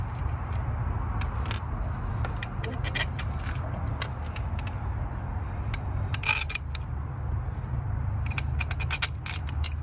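A ratchet clicks in quick, uneven bursts while tightening the 10 mm fuel rail hold-down bolts on a Lexus ES 300 during a knock sensor replacement, close-up over a steady low hum.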